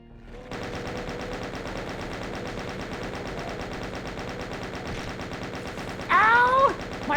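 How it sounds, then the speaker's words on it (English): Chaingunner enemies fire in a retro shooter game, a rapid, steady stream of machine-gun shots sustained for several seconds, loud and close, ending with a sudden louder shriek-like burst near the end. "Oh, chain gunners."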